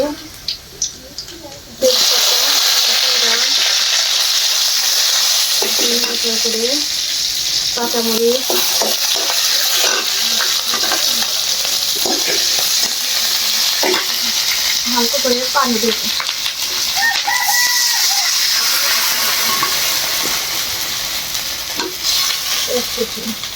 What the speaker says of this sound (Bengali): পেঁয়াজটা হালকা করে বাদামি তেলে করে ভেজে নিয়েছি